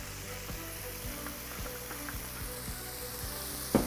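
Lentils roasting in a pan for lentil soup give a steady, close frying sizzle, with soft rhythmic scrapes of stirring about every half second and a sharper knock at the end.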